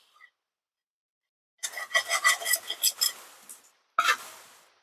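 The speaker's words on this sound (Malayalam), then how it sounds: "അതിനകത്തേക്ക് നമുക്ക് 1/2 കിലോ കാശ്മീരി ചില്ലി ഇട്ട് കൊടുക്കാം." Kashmiri chilli hits frying garlic in a pan for rambutan pickle, a bright crackling sizzle with stirring scrapes lasting about two seconds, then a short second burst after a pause.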